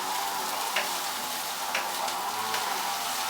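Chopped onion and Puerto Rican sofrito sizzle steadily in olive oil, a close, even crackle with a few faint stirring clicks and no talking.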